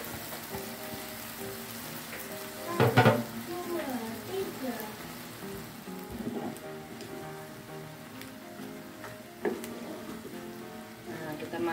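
Bean sprouts stir-frying with bok choy and egg in a pan sizzle steadily, with clattering spatula scrapes and a sharp clank near the start, no talk.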